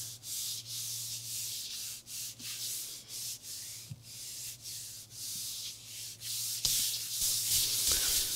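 Black cardstock rubbed by hand with firm pressure onto a Gelli printing plate, giving a steady, close scratchy friction with rhythmic strokes and a low hum underneath, no talking.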